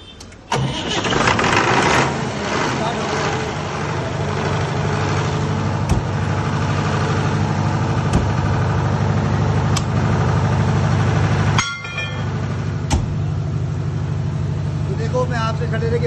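A diesel generator with an Ashok Leyland engine cranks and catches within the first second, then settles into a loud, steady idle with a deep hum and a few sharp knocks along the way.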